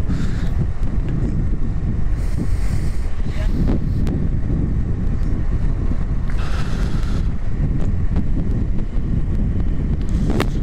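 Cold wind roars and buffets the microphone throughout a motorbike ride toward Pimpalgaon Joga Dam, a loud, continuous rushing with no voices.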